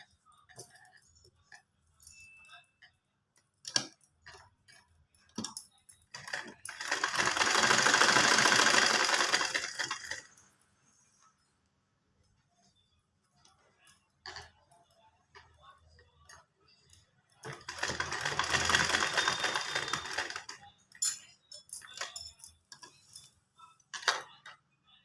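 Sewing machine stitching the pocket of full-elastic pants, running in two sustained bursts of several seconds each, with quiet gaps of handling clicks and ticks between them.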